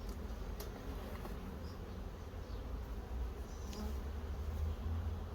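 Steady dense buzzing of many honeybees crowding the entrance of a nucleus hive, a continuous close hum with occasional individual bees zipping past, no voices.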